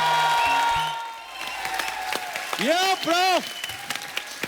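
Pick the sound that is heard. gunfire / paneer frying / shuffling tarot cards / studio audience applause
studio audience applause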